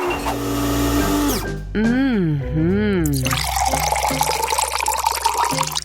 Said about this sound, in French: Et le lait, je vais le fouetter à la main